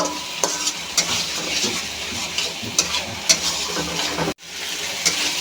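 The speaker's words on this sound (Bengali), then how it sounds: "সিমের বিচি মশলার সাথে একটু কষিয়ে নেব।" Bean seeds frying with spices in a pan, a steady close sizzle broken by repeated scraping stirs of a spoon, with a brief dropout near the end before the sizzle resumes.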